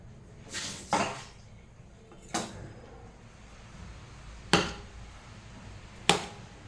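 A knife cutting through boiled jackfruit seeds that were frozen and then softened in water. About five separate, sharp knocks land on the board at uneven intervals, close by, with quiet room tone between them and no talking.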